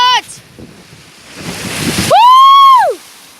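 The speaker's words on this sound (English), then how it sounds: "Come on, waves!" Big sea waves roll in and crash on the beach at Hopton, a rising rush of surf and wind noise building to a loud break, with a loud whistle or shout-like tone near the end.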